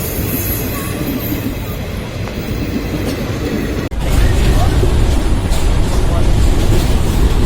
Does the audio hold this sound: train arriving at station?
yes